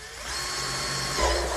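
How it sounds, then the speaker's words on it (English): A power drill whines steadily with a grinding, rising pitch as it bores a hole through a gardening container, close and loud throughout. "I'm gonna drill a hole about right here."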